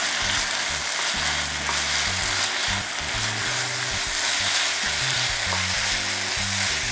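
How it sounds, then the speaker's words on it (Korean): Bulgogi meat stir-fried over high heat until the moisture cooks off, a dense, loud sizzle and crackle running continuously, with a low rhythmic rumble of the pan and spatula underneath. "수분이 없어질 때까지 센불에서 계속 볶아주세요."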